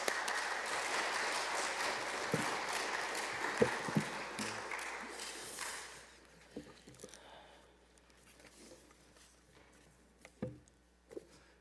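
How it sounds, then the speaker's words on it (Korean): A church congregation at a 2017 revival meeting applauds to welcome a guest pastor, a broad wash of clapping that swells then thins out after a few seconds, leaving scattered soft claps and room noise. "우리 강사 목사님 나오실 때에 환영의 박수, 감사의 박수로 한번 맞이하겠습니다."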